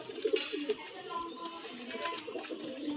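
Domestic pigeons in Kolkata give soft, low cooing calls, a few short murmuring phrases near the start, then faint scattered coos over a steady background hum.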